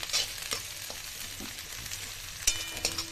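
Ginger and chili fry lightly in a pan, giving a quiet, soft sizzle broken by a few sharp clinks and scrapes of stirring.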